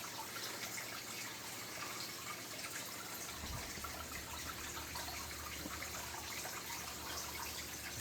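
Steady rushing of water flowing in a creek, a faint continuous broadband wash with no other sounds.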